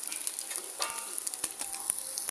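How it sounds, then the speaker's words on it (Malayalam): Peanuts and coconut pieces frying in hot ghee in a pan, a continuous close sizzle and crackle with scattered pops and the light scrape of stirring. "നെയ്യൊക്കെ ഇങ്ങനെ ചൂടായി വന്നിട്ടുണ്ടെങ്കിൽ നമുക്ക് കപ്പലണ്ടിയും തേങ്ങാക്കൊത്തും കൂടി ഇട്ട് കൊടുത്തു"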